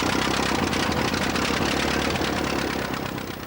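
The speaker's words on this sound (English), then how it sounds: "Jessica's tractor was an American-built Fordson." An American-built Fordson tractor engine runs steadily, a loud, dense mechanical rumble with a rapid chugging texture that stays close and even, fading slightly at the end, with no voices.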